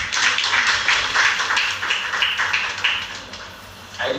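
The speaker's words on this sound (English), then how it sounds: "I didn't expect you to clap" An audience applauding during a keynote speech at the Uganda Law Society headquarters, a dense, fairly close round of clapping that swells and then tapers off near the end.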